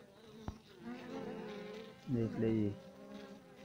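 Honey bees buzz around a hive where workers feed the queen, a soft steady drone with a couple of louder, closer buzzing bursts near the end, under a quiet voice speaking Hindi-Urdu.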